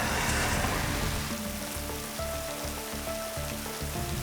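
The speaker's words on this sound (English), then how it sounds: "The rain started really coming down." Heavy rain pours down just after midnight beneath an overpass on a freezing night, a dense, steady hiss of falling water, close and loud, with splashing and dripping textures throughout.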